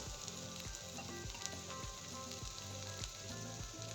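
Vegetables and spices dry-frying in a pan, a crackling sizzle punctuated by regular scraping stirs about twice a second, close and steady with no talking.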